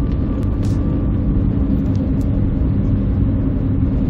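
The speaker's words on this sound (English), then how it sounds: "I spy a Stang, and it is a Mustang 2." A Ford Mustang King Cobra rumbles past as a steady low engine drone, loud and close, holding an even level throughout with no voices.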